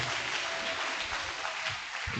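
An audience at a university smart lab and robotics project launch claps after a presentation, a steady, even patter of applause sustained for about two seconds with no voices over it.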